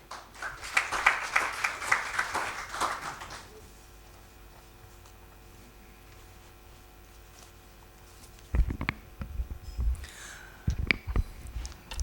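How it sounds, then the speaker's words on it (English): Applause from a conference audience in a hall, a few seconds of steady clapping that then falls to a quiet hum, followed by scattered knocks and handling noises. "may we welcome him with a round of applause as well"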